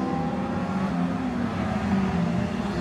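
Stock cars racing at Ringwood Raceway, a steady roar of several engines droning together at moderate distance with no break, no voices over it.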